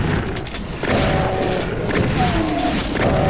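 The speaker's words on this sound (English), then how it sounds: "You'll use the classic Doom firepower to mow down all of the foes in your way." Classic Doom weapons firing in the Sigil levels, booming shots and thuds over continuous in-game noise, dense and loud through a short burst of combat.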